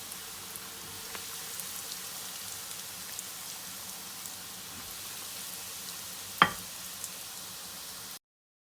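Potato cheese balls frying in hot oil, a steady soft sizzle throughout with a single sharp clink partway through before it cuts off.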